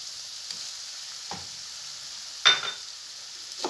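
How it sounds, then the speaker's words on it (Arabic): Spaghetti bolognese sauce gently sizzling in a pan, with a few soft scraping stir strokes spaced about a second apart, close and quiet. "نحرك."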